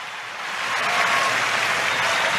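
A tennis crowd at the 2022 US Open, during Alizé Cornet vs Emma Raducanu, applauds a forehand winner, a dense steady clapping that swells after the first half-second and holds, with no voices on top.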